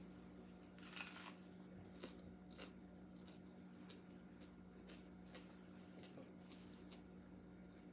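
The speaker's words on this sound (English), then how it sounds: "You hear that crunch?" Italian green beans and goulash are chewed close to the mic, with quiet repeated crunches and soft bites over a steady low hum.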